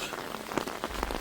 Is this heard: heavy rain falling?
yes